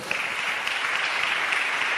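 A church congregation applauds together, producing a steady, dense wash of clapping that carries on evenly for a couple of seconds without any talking.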